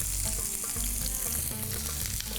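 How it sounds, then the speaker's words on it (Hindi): Chillies and onion sizzle in hot ghee as a dense, continuous crackle close to the pan, with faint stirring clinks underneath, and no talk. "थोड़ा घी, घी में मिर्ची, प्याज,"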